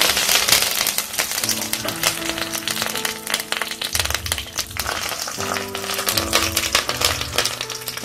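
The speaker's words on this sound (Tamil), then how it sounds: "கடுகு போடணும். கடுகு பொட்டிடுச்சு." Mustard seeds crackle and pop in hot oil while tempering for a Kerala-style aviyal, a dense stream of rapid sharp sputters with some background clatter, close and fairly loud throughout.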